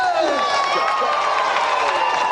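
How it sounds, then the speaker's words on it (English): A studio crowd cheers and whoops for athlete Colin Jackson on a retro games show, a dense continuous roar of high excited shouts with overlapping voices throughout. "Round of applause for Colin."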